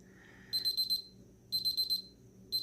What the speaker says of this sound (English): that was our set temp for whatever we were doing before, so that's why it's beeping.